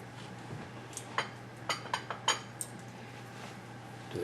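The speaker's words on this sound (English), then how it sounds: "Give that a quick stir." A pot of Thai coconut chicken soup (tom kha gai) being stirred, giving a few light, irregular metallic clinks of a utensil against the pot over a low steady hum, with no talk.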